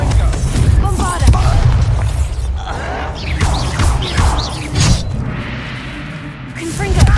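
A Bombarda blasting spell explodes in Hogwarts Legacy, heavy booms and crashing bursts mixed with whooshing spell sounds and character voices, loud and up close.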